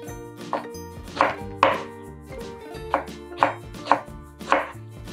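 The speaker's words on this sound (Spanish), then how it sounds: "La cebolla la voy a cortar en julianitas." Knife slicing an onion into thin julienne strips on a cutting board in a kitchen, seven crisp chopping strikes in a loose rhythm, close and clear over background music.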